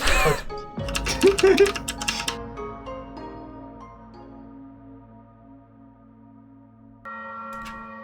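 A bell rings a short melody in the video game Dying Light 2, clear tones with soft trailing resonance that fade gradually, followed by a fresh sustained tone near the end, while voices talk over the start.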